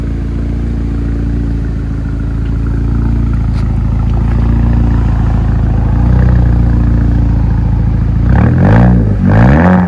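A 2007 Audi A3 2.0 turbo with straight-pipe exhaust idles with a loud, steady drone, then gets sharply revved near the end in a few rising and falling bursts.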